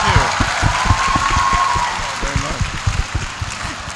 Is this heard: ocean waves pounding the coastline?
no